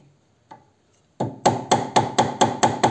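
Sharp metallic tapping with a threaded rod while freeing a part on a Honda Civic IX 2.2 i-DTEC during maintenance, a couple of faint knocks followed by eight loud, evenly spaced ringing strikes, close and without speech.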